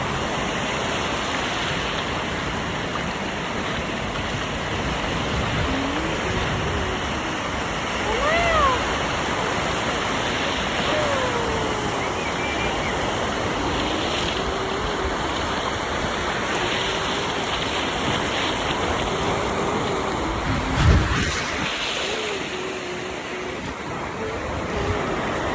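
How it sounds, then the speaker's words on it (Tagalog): Strong waves break on a beach at Boracay, a dense, continuous roar of surf filling the whole stretch, with people talking faintly at moments and a brief knock near the end. "Lakas ng alon."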